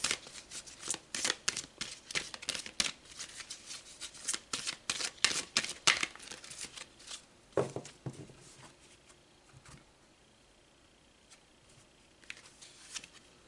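Tarot cards being shuffled for a card reading, rapid crisp riffling and slapping bursts close by for several seconds, then slowing to scattered softer card handling.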